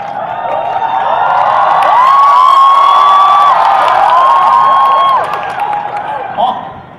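Studio audience at a comedy show claps and cheers loudly and steadily for several seconds, with whoops rising over dense applause before it fades near the end.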